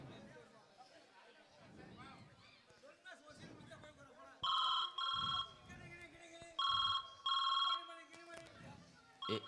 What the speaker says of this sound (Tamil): முப்பத்தி ரெண்டு மாமாக்கே ஃபோன் பண்ணி கேட்டோம்